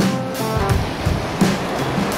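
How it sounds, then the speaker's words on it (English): A waterfall along the Berg Lake Trail in Canada gives a steady, broad rushing roar of falling water, loud and continuous throughout, with soft low rumbles beneath. "Waterfall."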